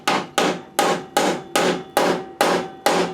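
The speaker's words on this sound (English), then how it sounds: "I ended up just kind of tapping it in." A hammer taps a battery relocation part into the frame of an Acura RSX. Eight sharp metallic knocks land at a steady, even pace about every 0.4 seconds, close and clear, with no talk.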